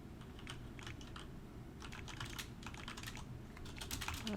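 Rapid, irregular keystrokes on a computer keyboard clatter steadily throughout, moderately close, with bursts of clicks and no talking.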